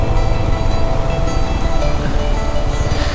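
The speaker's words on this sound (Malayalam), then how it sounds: "നമ്മുടെ ചാർപ്പ വെള്ളച്ചാട്ടം" Charpa waterfall near Athirappilly, a loud steady roar of rushing, crashing water close by, continuous broadband noise without pause.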